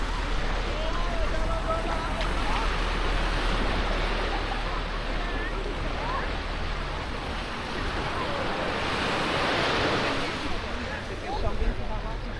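Steady wind buffeting a microphone on Canasvieiras beach, a broad continuous rush mixed with distant surf, loud and unbroken throughout, with no clear voices over it.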